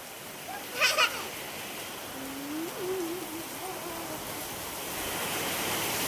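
Heavy monsoon rain pours down with running water, a dense, continuous hiss that builds slightly toward the end, while a voice briefly calls out over it and a short sharp clatter sounds near the start.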